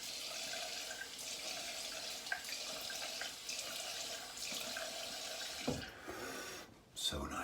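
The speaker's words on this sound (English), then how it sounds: "So nice, that cold water rinse." A bathroom tap runs steadily for a cold water rinse, a continuous hiss of flowing water with a few splashes and handling noises near the end.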